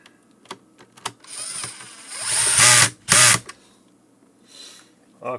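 A power screwdriver backs screws out of a Clear-Com HelixNet HMS-4X intercom during motherboard repair, two short whirring bursts close up after a few clicks and taps of handling.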